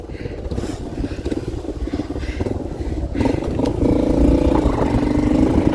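A motorcycle on a mountain road in Mustang, Nepal, heard as an engine rumble that rises and grows louder toward the end, mixed with clatter and some nearby voices.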